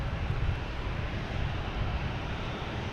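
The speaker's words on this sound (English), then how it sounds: "Let's get this JetBlue first coming in from Bermuda" A JetBlue airliner arriving from Bermuda at Boston Logan Airport, its engines giving a steady broad rumble and roar at moderate distance, with wind noise and no talk.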